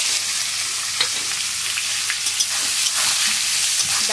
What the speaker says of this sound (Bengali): দেখো পেঁয়াজটাকে একটু লাল করে ভেজে নেবো